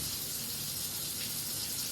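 Water runs steadily from a tap in a continuous hissing gush, fairly quiet and unbroken, with no talking.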